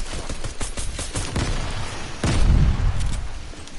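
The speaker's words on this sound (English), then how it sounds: "I'm throwing grenades" Grenade blasts in Fortnite, a handful of sharp pops and bangs followed by a heavier booming explosion near the end, loud and close with no talking.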